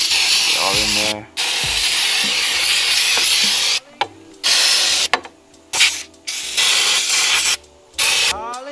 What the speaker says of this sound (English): I'm going to go ahead and pressure wash this bay real quick